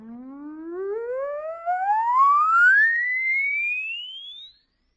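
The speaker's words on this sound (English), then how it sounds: "I'll play an oscillator for you." An oscillator test tone for a hearing test: a single clear electronic tone glides smoothly upward in pitch for about four and a half seconds, then cuts off abruptly.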